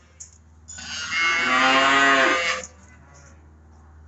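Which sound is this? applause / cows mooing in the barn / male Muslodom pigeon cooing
cows mooing in the barn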